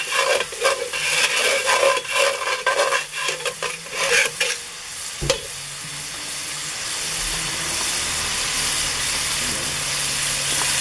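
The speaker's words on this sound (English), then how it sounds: "get all that stuff off the bottom and get it incorporated into the juice here" Country rib juices are stirred and scraped in a Dutch oven: rhythmic spoon scrapes and clunks for about five seconds over a bubbling sizzle, which then carries on steadily alone.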